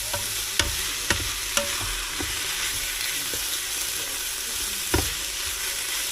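Beef for stew sautéing in a smart lid pot: a loud, even sizzle fills the clip, broken by a few sharp clicks and scrapes of a utensil against the pot.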